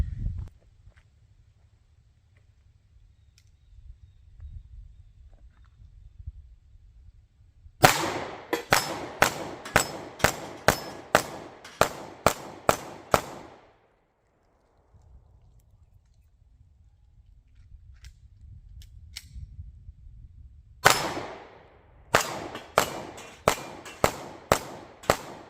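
A Smith & Wesson CSX Micro 9mm pistol fires rapid strings of sharp, loud shots from 7 yards, one burst of about a dozen, a pause with low background rumble, then a second quick string.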